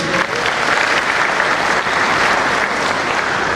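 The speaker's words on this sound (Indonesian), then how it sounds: "Tepuk tangan buat kita." Steady, dense applause from a crowd at an organisation's leadership inauguration ceremony in Jakarta, loud and continuous throughout with no pauses.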